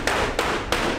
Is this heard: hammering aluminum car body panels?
yes